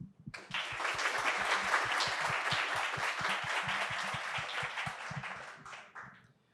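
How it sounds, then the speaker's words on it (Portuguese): A crowd bursts into warm applause for several seconds, with a steady rhythmic beat of claps underneath, then fades out. "As palmas foram realmente bem calorosas."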